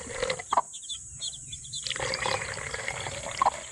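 Water pours and splashes into a drinker for young chickens, a steady liquid rush with a brief quieter gap, chicks peeping and chirping nearby throughout.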